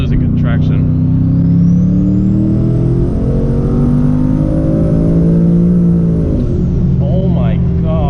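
Twin turbo Ford Mustang GT accelerating from inside the cabin, a loud, deep engine drone rising steadily in pitch for several seconds, with a high turbo whine above it, then easing off near the end.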